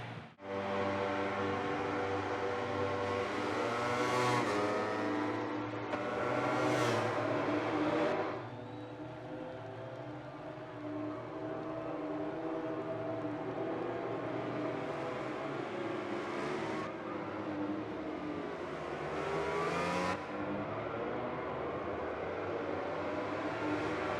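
Yamaha motorcycle engines in the MotoGP 19 video game idle and rev on the starting grid at the Catalan Grand Prix, a continuous loud roar with rising revving swells and sharp blips throughout.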